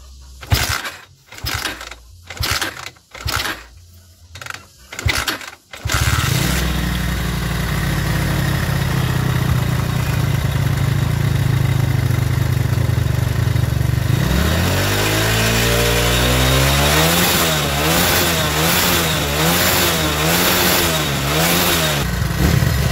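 A Megapro motorcycle engine, running smoothly after its carburettor main jet was shimmed and a box filter fitted, starts with choppy bursts, settles into a loud steady idle, then climbs through a series of throttle revs, close up.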